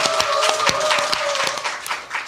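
Studio audience clapping to open a Korean talk show, a dense, bright burst of applause at close range, fairly even throughout with one sustained tone running underneath.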